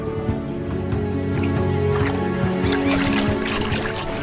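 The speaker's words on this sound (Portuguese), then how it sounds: "Aves retornam aos galhos que abrigaram peixes." A loud mix of bird calls fills the Amazon rainforest after the floods recede, with overlapping honking and squawking cries continuing steadily throughout, and no talk.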